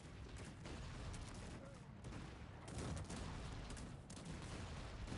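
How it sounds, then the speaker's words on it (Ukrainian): Mortars pounding a fortress in Cossacks 3, a dense, continuous barrage of booming shots and crashes layered with battle noise, loud and steady throughout with a few heavier swells. "воно все одно розстрілюється цими мортирами"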